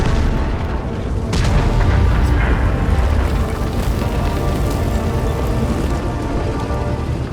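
A tank's main gun fires at an enemy tank in an online tank battle game, a heavy booming shot over a dense, continuous roar of battle ambience with no talking.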